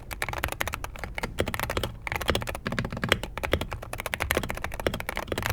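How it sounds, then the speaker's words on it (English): Fingers type quickly on a Wooting 60 HE magnetic keyboard, producing a dense, continuous stream of crisp key clacks at close range, with no talking. "here's a little sound test of the Wooting 60 HE"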